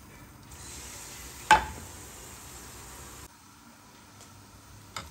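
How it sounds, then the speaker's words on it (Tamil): Tamarind solution is poured into a pan of simmering Tamil-style egg curry (muttai kuzhambu), giving a steady hissing sizzle for a few seconds with a sharp clank of a vessel partway through, then quieter bubbling. "இந்த டைமில் நம்ம இந்த புளி கரைசலை இதெல்லாம் ஊற்றிடலாம்."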